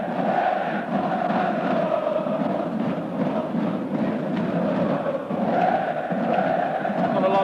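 A fanatical football crowd roars inside the Galatasaray stadium at a Champions League match against Manchester United, a dense, loud, continuous chanting wall of voices that swells and dips slightly throughout.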